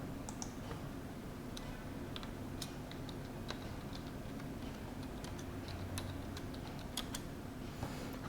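Light tapping on a computer keyboard while entering text into electrical design software, scattered faint clicks over a steady background hum, with no speech.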